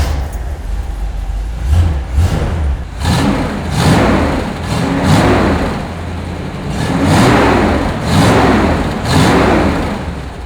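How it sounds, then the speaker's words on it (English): A 1973 Chevrolet Corvette 454 big block coupe engine rumbles loudly and close, with a low idle punctuated by several throaty revs that swell and fall in repeated bursts, no voices over it. "how about I start it for you so you can hear what it sounds like?"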